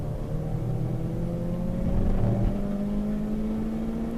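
Nissan Primera P11 race car with an SR20 engine, number 41, in a one-hour endurance race at Hampton Downs, a close, steady engine drone holding a sustained note with slight revving throughout.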